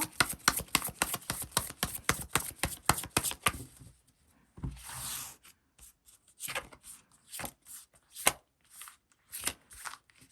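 Tarot cards shuffled and drawn for a reading, a quick run of crisp riffling slaps for about four seconds, then scattered softer card sounds as cards are laid out.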